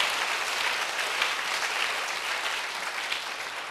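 Steady applause from a large church congregation at a Sunday service, dense and even throughout with no pauses.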